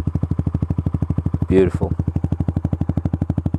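A 2016 Honda CBR 125R fitted with a Scorpion Serket taper carbon exhaust idles with a steady, fast, even thump, close and loud, while someone briefly speaks over it.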